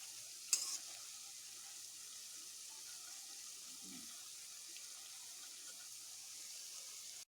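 Jackfruit fritters fry in hot oil, a faint, even hiss that continues steadily with one brief clatter near the start and a soft knock partway through.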